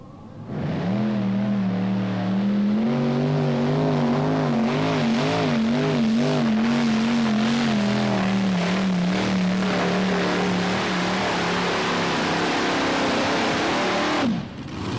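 Modified multi-engine pulling tractors roar at full power as their wheels spin, a loud, sustained engine drone with wavering pitch that rises, holds for many seconds, then cuts off abruptly near the end.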